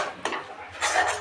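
A spoon stirs lentil paste filling with a little salt in a pot, making two quick close scraping and clinking strokes against the metal.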